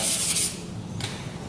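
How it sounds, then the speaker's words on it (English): Sandpaper rubs briskly by hand while cleaning up part of an electric skateboard battery build, two short close raspy strokes with a quiet pause between. "and then we grab some sandpaper, clean it up."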